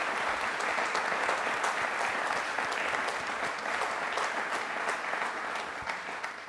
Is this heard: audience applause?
yes